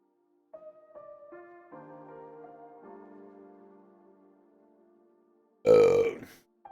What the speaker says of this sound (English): Shout out to the person that doesn't like to hear me burp in the YouTube comments.